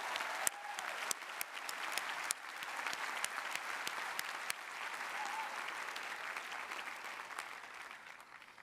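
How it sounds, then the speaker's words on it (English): Sustained applause from a large commencement crowd honoring support systems and families, a dense steady patter of many hands filling the hall at moderate distance, with a few faint voices and whoops mixed in. "let's all give a round of applause for our support systems and our families and our friends"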